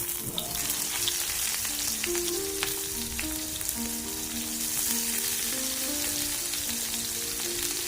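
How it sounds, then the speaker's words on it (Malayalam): Onions fry in coconut oil with a dense, steady sizzle that holds evenly throughout, close up and uninterrupted, with no voices. "സവാള നന്നായിട്ട് ബ്രൗൺ കളർ നല്ല ഡ്രൈ ആയിട്ട് വരുന്നത് വരെ പൊരിച്ചിടുക"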